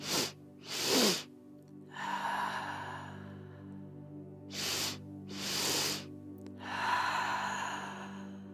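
Breathing exercise: a two-part inhale through the nose followed by a long, gentle exhale, repeated twice, close and clear with no talking.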